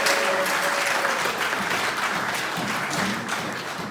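A church congregation applauds with dense, sustained clapping that stays loud and even throughout.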